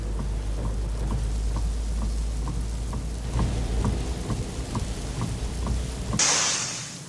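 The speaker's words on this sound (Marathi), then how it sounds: "मुंबईमध्ये जोरदार पाऊस सुरू आहे." Heavy monsoon rain pours down in Mumbai, a dense steady roar of rain on surfaces with a low rumble of thunder beneath, fading into a brief sharp hiss at the end.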